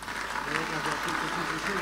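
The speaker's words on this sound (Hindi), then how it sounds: "ताली बजाकर धन्यवाद देंगे" Audience applause at a spiritual gathering with a guru, a steady dense wash of clapping from a crowd, with talk faintly mixed in.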